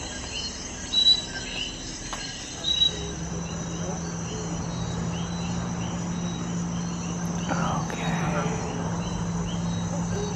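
Dense, continuous night chorus of coquí frogs and insects in a Puerto Rico rainforest, a steady high chirping wash with a low hum beneath and a couple of brief closer sounds early on.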